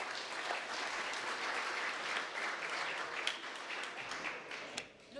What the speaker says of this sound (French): Je pense qu'on peut applaudir nos intervenantes.